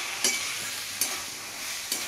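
Methi greens with eggplant and potato fry with a steady broadband sizzle, and the spoon scrapes the pan in three sharp strokes spaced under a second apart. No one speaks.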